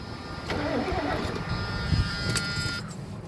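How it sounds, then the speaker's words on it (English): A 1977 Lincoln Mark V's engine cranks over with the key, a faint whirring starter turn with a brief rhythmic chug partway through and no talk. "She's cranking by the key."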